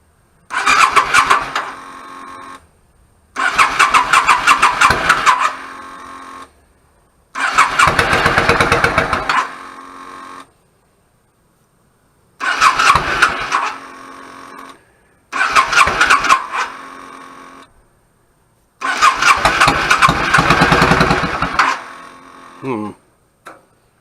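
A 1999 Yamaha V-Star 650 motorcycle with clogged pilot jets, choke on, is started repeatedly: six loud bursts of cranking and engine sound, each a few seconds long, separated by silence.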